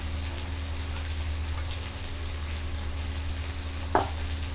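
Ginger-garlic paste sizzles steadily in a hot pan for an aloo matar curry as a little turmeric is added, with one brief clink partway through and no voices.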